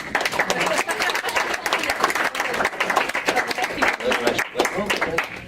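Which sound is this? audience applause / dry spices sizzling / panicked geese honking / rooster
audience applause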